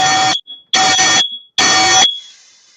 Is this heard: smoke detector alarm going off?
yes